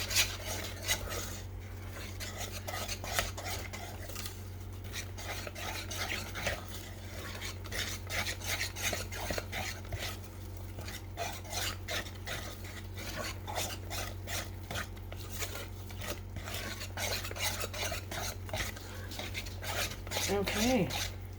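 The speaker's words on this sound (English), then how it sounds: "Once all that flour is completely incorporated, and you can mix the heck out of it, no need to worry about over mixing in this case." A utensil stirs flour into fudgy brownie batter in a bowl with continuous scraping and rubbing strokes. The mixing is steady, close and moderately loud, with light clinks against the bowl throughout.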